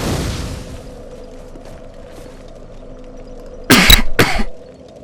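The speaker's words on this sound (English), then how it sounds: "Another cough." Two sharp coughs close together near the end, loud and close, after several seconds of quiet room tone with faint low hum, during Dark Souls 2 gameplay.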